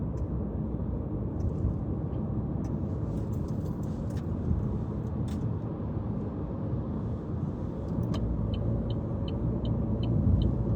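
Steady road rumble from a car driving behind a truck on a French road, broadband and continuous throughout with no talk, a faint repeated high ticking near the end.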